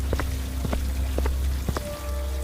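Rain falls steadily in a horror-story scene, a dense close patter of drops with a few sharper splashes and a faint sustained drone underneath.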